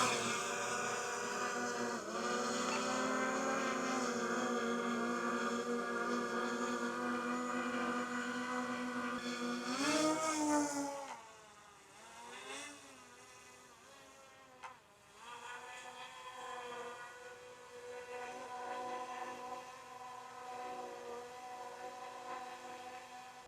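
DJI Mini 5 Pro drone hovering nearby, a steady high-pitched buzzing whine that shifts pitch around ten seconds, then continues somewhat quieter and more distant, with no talk.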